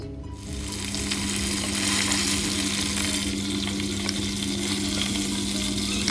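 Marinated beef pieces frying in hot oil for biryani, producing a steady, close crackling sizzle that holds evenly throughout with light stirring.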